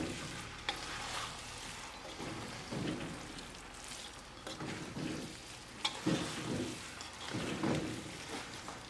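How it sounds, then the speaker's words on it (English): Chicken biryani being stirred with cilantro in a pot, soft scraping and shuffling strokes in uneven bursts over a faint sizzle, close and fairly quiet, with no talk. "Mix it one more time."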